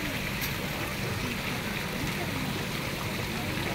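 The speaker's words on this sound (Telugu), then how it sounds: "వాటర్ సౌండ్ విందుగా కూడా ఉంటుంది" Fountains at the Kailasagiri hilltop park in Visakhapatnam, beside a Shiva-Parvati statue, give a steady, dense wash of splashing water that holds constant throughout, with no pauses or talk.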